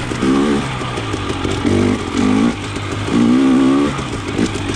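A KTM 300 XC TPI two-stroke dirt bike with a TSP head and low-compression insert, ridden in third gear over rocky, icy high ground, its engine droning loud and close with repeated surges of revving.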